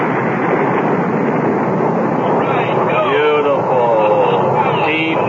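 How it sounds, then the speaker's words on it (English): Rocket engines roar at launch in a radio drama, a dense, continuous wall of loud rushing noise, with voices calling out over the blast. "5, 4, 3, 2, 1, 0. All engines firing."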